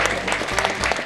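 Crowd at an equine expo applauding, a brief burst of dense clapping that sounds close and fairly loud, with no voices over it.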